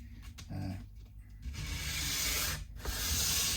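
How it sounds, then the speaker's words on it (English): A part from a PRS SE guitar pickup is sanded by hand in bursts of coarse, hissing abrasive scrubbing, close and fairly quiet, with short pauses between passes. "I'm going to aim to sand these down that other millimeter and keep it in a nice straight line as I do it"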